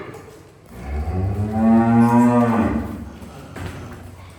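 A single long, loud cow moo, close by, rising and holding for about two seconds before fading out.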